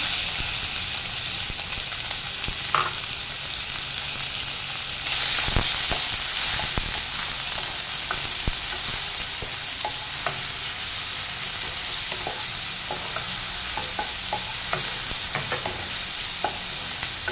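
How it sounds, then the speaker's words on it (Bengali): Chicken pieces frying in hot oil give a continuous close sizzle and crackle, with scattered clicks and scrapes of a utensil in the pan, steady and loud throughout, no voices. "তেলটা আমার গরম হয়ে গেছে, আমি চিকেনটা দিয়ে দিচ্ছি।"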